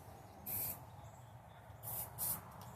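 Short hissing bursts of spray paint from a rattle can while a rusty cabinet is repainted: one burst, a pause, then two more close together, loud and near over a low room hum.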